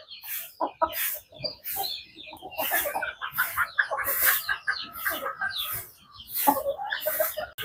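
Chickens cluck steadily and close by while pecking at cooked rice, a busy run of short overlapping calls with no talk.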